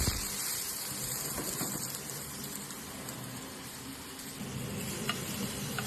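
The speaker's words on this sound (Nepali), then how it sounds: "त्यस पछाडि हल्लाएँ सबैतिर लाग्ने गरेर अनि लसुन टमाटर हालेँ" Garlic and tomato frying in oil for a pickle make a steady, close sizzle with faint stirring, continuous and without speech.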